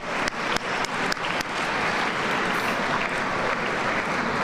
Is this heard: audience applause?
yes